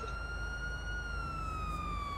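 Police siren in GTA Online, a single steady electronic tone that sinks slightly in pitch, loud and close with no one talking.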